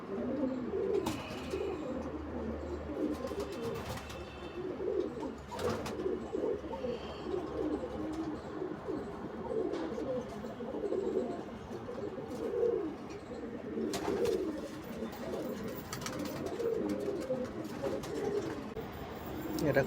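Home-bred domestic pigeons coo continuously in soft, overlapping low rolls, with a few brighter chirps and faint background voices.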